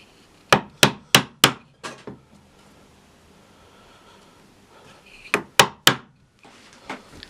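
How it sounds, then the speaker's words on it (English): Sharp chisel strikes on plywood while cutting out a small piece for a plywood marking gauge, a quick burst of five or six hollow knocks, a pause, then three more, close and crisp with no talk. "Then I just need to chisel that piece out and glue the bolt in."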